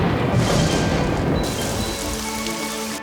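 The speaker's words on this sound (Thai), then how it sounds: "เคอรี่สามารถสั่งฝนได้ทุกเวลา" Rain effect in an animated fairy tale, a steady dense wash of falling rain with a slight shift partway through, loud and continuous with no voices.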